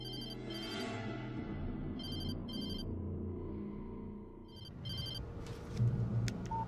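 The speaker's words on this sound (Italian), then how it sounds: "Trasalì al suono del telefono." A telephone rings in the video game Alan Wake, with repeated bursts of bright ringing over a dense, rumbling game soundscape. The rings are moderately loud and come in separated pulses.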